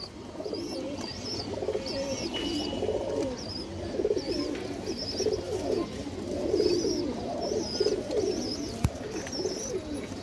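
Pigeons at a pigeon farm coo repeatedly in soft, rolling bursts, several birds close by and continuous, with no talking.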